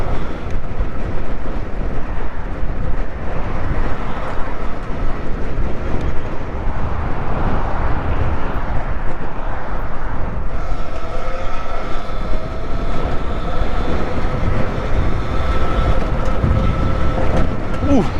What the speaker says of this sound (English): Oh shit, there's a train down there.